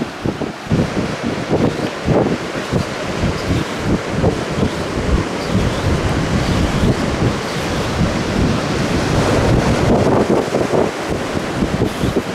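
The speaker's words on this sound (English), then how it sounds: "the waves are crashing right up the side" Ocean waves crash against the rocky coast at Porto, Portugal, a loud continuous roar of surf with repeated breaking bursts and heavy wind buffeting the microphone.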